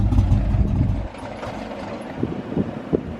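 A carbureted Ford Mustang SN95 V8 idling after a cold start, a low uneven rumble that is heavier at first, then settles into a lumpy idle with a few small pops.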